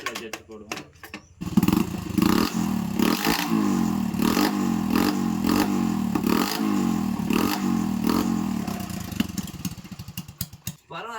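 A Honda Splendor fitted with an RX100 silencer fires up and idles with a loud, throaty exhaust burble, blipping through several sharp revs in steady pulses, close and dominant from start to finish.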